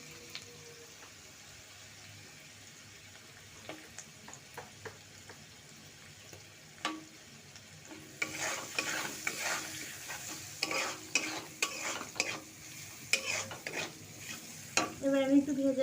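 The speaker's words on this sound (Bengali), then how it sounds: "আমি পেঁয়াজ লঙ্কাটা ভাজার পরেই বাঁধাকপি আলু আর গাজরটা একসাথে করে ভেজে নিচ্ছি" Onion, chili, cabbage, potato and carrot frying in a pan for chow mein: a soft sizzle under repeated scraping stirs that grow louder and busier in the second half.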